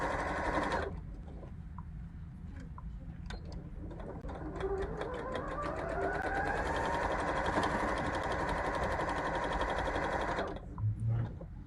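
A sewing machine stitches seams on a quilt fusible grid, running steadily and continuously at close range for about ten seconds before stopping abruptly.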